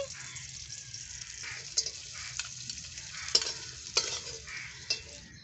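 Crabs frying in hot oil in a village-style kitchen, with a steady close sizzle and repeated scraping stirs of a spoon in the pan, with no talking.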